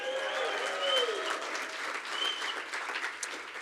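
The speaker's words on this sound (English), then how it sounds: "so give yourself a round of applause" Loud, sustained applause from a crowd at a Texas Democratic campaign rally, many hands clapping steadily with faint cheering mixed in, no speech over it.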